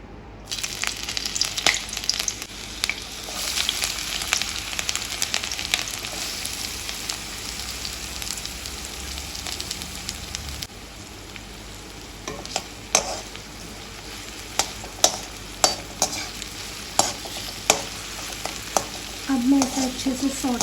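Onions and green chilies hitting a hot pan for masala vermicelli, a loud, continuous sizzle with stirring, then sparser sautéing punctuated by regular scraping knocks of a spatula.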